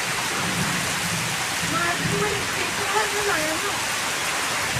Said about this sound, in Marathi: आज जोरात आला तेजस पाऊस. मस्त वादळी वारा.